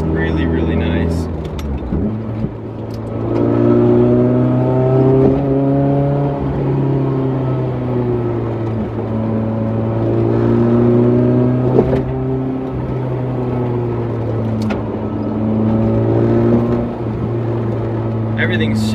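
A 1989 BMW M3 engine pulls hard while driving, its loud, close drone climbing in pitch through repeated surges with cabin rattles and a voice talking over it.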